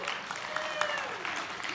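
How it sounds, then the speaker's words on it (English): A church congregation claps for itself, a brief burst of many hands applauding under a murmur of voices and a few shouts, moderately loud and even across the moment. "Give yourselves a clap."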